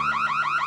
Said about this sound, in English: Who set that alarm off?